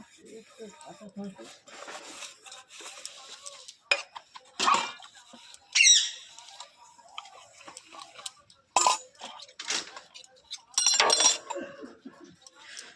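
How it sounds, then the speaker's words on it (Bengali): Dishes are scrubbed and washed by hand, with intermittent clinks and clatters of pots, plates and utensils knocking together. A voice talks over them in between. "দেখো এবার বসছি বাসন মাজতে।"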